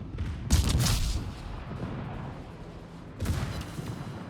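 Warship secondary guns booming in a naval video game as an Italian cruiser fights, two heavy blasts with rumbling tails, the second after a lull, loud and near with no talk.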